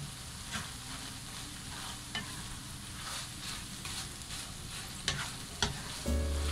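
A spoon stirs an empanada filling of green plantain and meat in a pan, giving a steady soft sizzle with occasional scraping clicks and a brief clatter near the end, with no talking.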